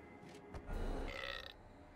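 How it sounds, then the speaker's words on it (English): A deep, drawn-out burp rumbles from a hellhole in the video game Dungeons 3, one low gurgling belch that swells and then trails off, fairly quiet and heard alone. "The hellhole rewarded the sacrifice of a live hero with a respectable burp."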